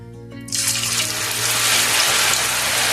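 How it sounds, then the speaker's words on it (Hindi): Potato julienne is dropped into hot oil, bursting into a loud, steady, close frying hiss that holds to the end. "अब ऑयल में आलू की जूलियंस को इस तरह से लपेट कर डाल देंगे।"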